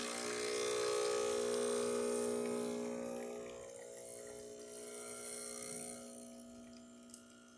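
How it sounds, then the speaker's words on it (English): A Breville Barista Express espresso machine pulling a double shot, its pump giving a steady buzzing drone close by that eases slightly partway through, with a faint click near the end. "we'll just pull a double shot"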